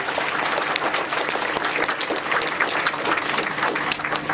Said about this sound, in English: So can we just give everyone a round of applause,